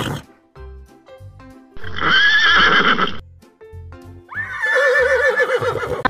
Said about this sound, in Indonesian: Lalu ada seekor kuda.